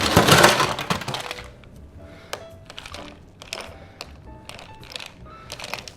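A Trinidad Sour cocktail strained into a double rocks glass over ice, with a loud clattering crackle of ice at the start and then scattered sharp clinks and taps as the liquid settles.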